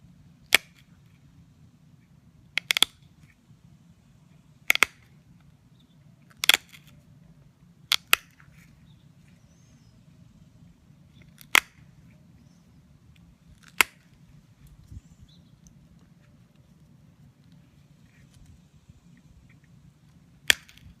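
Sharp stone-on-stone strikes from aboriginal-style flint knapping, knocking flakes off a stone core: about ten isolated cracks spaced irregularly over steady low background hum, close and crisp, with no talking.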